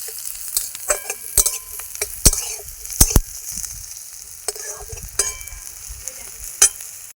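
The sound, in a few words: frying onion and garlic in oil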